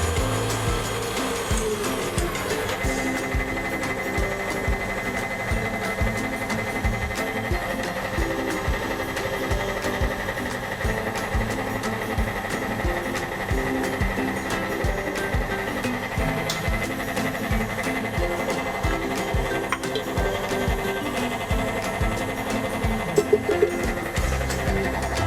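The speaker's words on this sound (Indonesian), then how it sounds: "Sambil mengocok krim di sini, kita akan perlahan menambahkan whipping cream dan kita lanjutkan mengocok hingga dia mengembang" Electric mixer whipping cream in a kitchen while making bicolor croissants, a steady whirring motor hum with a dense rattling beat that runs unbroken and fairly loud throughout, no voices.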